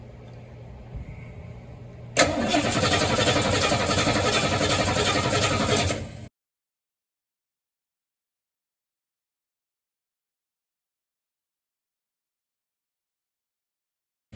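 A car engine cranks for about four seconds in a steady, loud, rapid churn, drawing about 150 amperes from the battery, then cuts off abruptly into silence.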